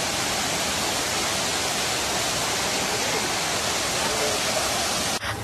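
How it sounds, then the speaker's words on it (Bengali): A waterfall pours with a loud, dense and steady rushing roar that fills the whole scene and barely changes, with a brief dip right at the end. "এখানে দেখতে পাচ্ছেন ঝর্ণা"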